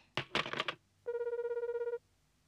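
A cartoon telephone is dialed with a quick burst of clattering rotary clicks, then a steady electronic ring pulses rapidly for about a second, clear and close with no talk.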